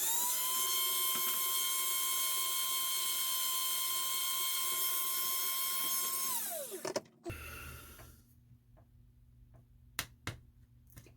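A high-pitched rotary power drill whirs steadily for several seconds, drilling a plastic model spaceship hull, then winds down abruptly, followed by quiet clicks and handling sounds.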